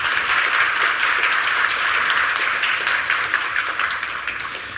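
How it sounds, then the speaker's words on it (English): A large keynote audience at a technology developer conference in Seoul gives a steady round of dense applause, loud and continuous for the whole stretch, tapering only slightly at the end. "Round of applause."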